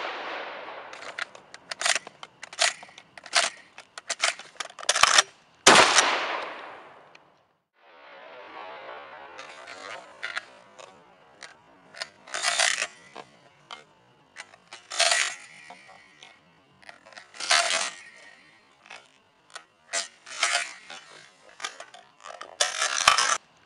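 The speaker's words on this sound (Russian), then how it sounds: "Делаем холостой спуск, если нет патронов в патроннике. Подаем патрон и делаем выстрел." Rapid handgun loading drill: sharp metallic clicks and slide racks, a dry-fire snap on an empty chamber, then a cartridge chambered and sharp shots fired. The close, crisp mechanical sounds repeat in quick, irregular sequences with brief pauses.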